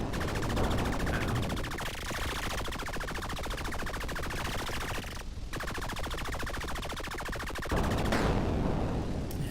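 Rapid continuous weapon fire from the Tripoly video game, loud and dense bursts with brief pauses, running throughout without speech.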